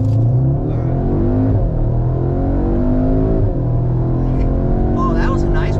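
A tuned car fitted with a DO88 intercooler and Racingline PCM pulls hard under full throttle, its engine note rising steadily and loud inside the cabin for several seconds, with a voice heard over it.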